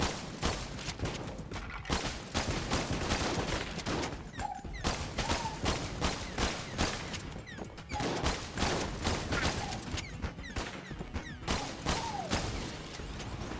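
Continuous gunfire in the video game Enter the Gungeon, rapid shots fired in dense, overlapping bursts that swell and dip across the whole stretch, loud and busy with no pauses.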